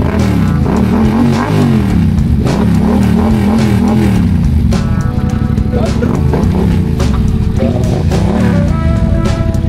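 A 700cc motorcycle engine revs loudly and steadily close by, its pitch rising and falling, with people talking over it throughout.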